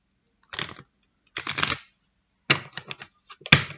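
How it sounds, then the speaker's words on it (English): Oracle cards being shuffled: four short, crisp bursts of riffling card noise separated by brief pauses, fairly close and clear, with no talk over them. "bad shuffling."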